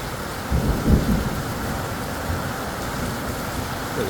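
Violent late-summer thunderstorm in the Drôme countryside at night, with a deep rumble of thunder rolling in early over a steady hiss of heavy rain that keeps falling alone afterward.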